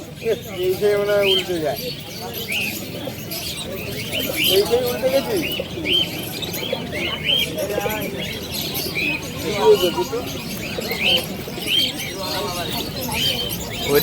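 Pigeons coo and flutter at a busy pigeon market in Birnagar, with repeated close cooing phrases heard under people talking throughout.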